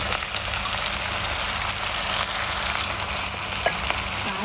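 Water poured into a hot pan hisses and sizzles steadily while snakehead fish is being stir-fried, a loud, continuous frying crackle with no voices over it.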